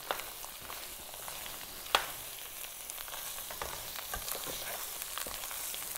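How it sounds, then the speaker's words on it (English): Chorizo sizzles in olive oil in a preheated pan, a steady crackling hiss with scattered pops and one sharp knock near the start. "And I did start the chorizo with just a little bit of olive oil."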